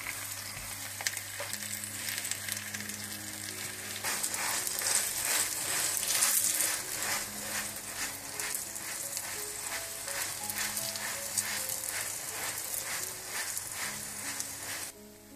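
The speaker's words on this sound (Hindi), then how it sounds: "ऊपर आप थोड़ा सा मक्खन डाल दें और इसको पलट दें और बिल्कुल हल्की आंच पर आपने इसको पकाना है।" An aloo paratha fries in butter on a pan over low flame, giving a steady, gentle sizzle with a faint crackle and occasional soft scraping close by. There is no talking.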